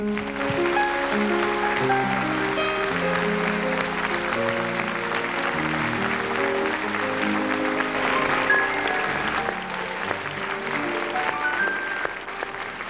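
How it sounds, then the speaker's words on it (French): Applause from a TV studio audience on a children's music show, continuous moderate clapping heard under sustained background music. "Moi, je vais applaudir les parents."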